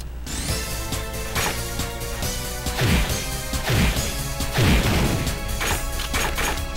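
A grenade blasts in the video game Power Pro Kun Pocket 11, followed by repeated loud impact crashes and descending booms over a dense, continuous game soundtrack, with no talking.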